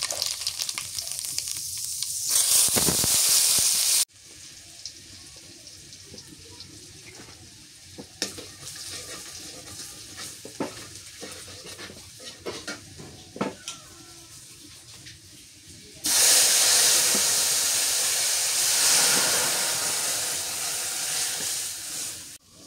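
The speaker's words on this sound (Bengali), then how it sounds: "তেলানি দেবো তো, কালো জিরে দিই।" Nigella seeds drop into hot oil in a village kitchen, setting off a sudden loud, crackling sizzle that hisses steadily after quieter stirring and clinking sounds.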